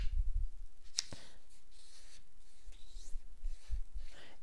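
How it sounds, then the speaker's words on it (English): Paper is folded for origami, with soft rustles, a sharp crisp crease sound near the start and faint rubbing as the creases are pressed firm, quiet and close. "Unfold it, and then fold the opposite corners."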